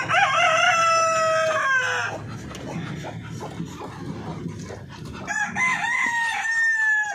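Large native chickens on a farm: a rooster crows loudly and close at the start, clucking and scratching fowl fill the middle, then another crow rises near the end.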